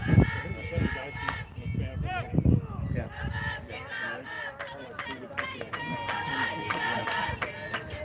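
A group of voices shouts and chants encouragement to rally a batter at a high school varsity girls' softball game, crowd noise rising and falling, with a nearer voice talking over it.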